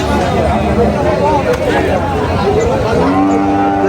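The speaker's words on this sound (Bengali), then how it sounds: "আরো কিছু গরু চলছে ফ্রিজিয়ান জাতের গরুগুলো" Several Friesian cattle moo loudly and close by amid a busy crowd of chattering voices and steady outdoor babble at a livestock market in Chaugachha, Jessore.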